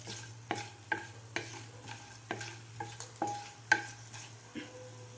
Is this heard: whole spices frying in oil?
yes